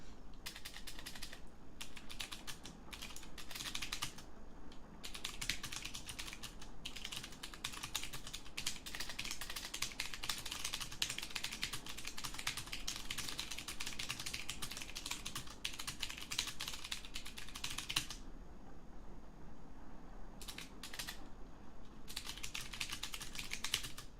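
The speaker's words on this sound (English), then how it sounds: "It's a mechanical keyboard." Fast, close keystrokes clatter on a mechanical keyboard, an ASMR-style typing session of near-continuous clicking broken by a few brief pauses.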